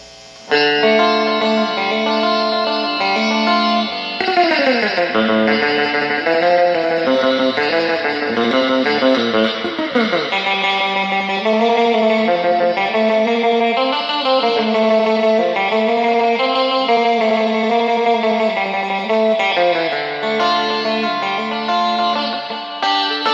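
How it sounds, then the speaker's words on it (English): A distorted electric guitar plays sustained chords and sliding bends through a Cave Valley Amps Mini 10 Twin amplifier, with a washy reverb tail filling out each note. "next, we're going to have a listen with reverb"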